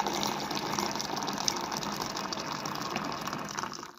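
Cold water pours to dilute a drink, a soft, steady trickling fill that runs evenly for a few seconds at low volume before tapering off.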